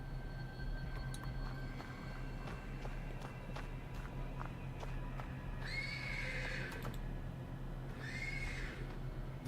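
A horse in a video game stable neighs twice in a shrill, drawn-out whinny over a busy backdrop of hoof clops and shuffling, with a low steady ambient drone throughout.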